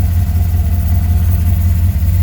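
A 2015 GM L83 direct-injection V8 with flex fuel runs at a steady idle, a loud low rumble with an even pulsing beat throughout and no voices.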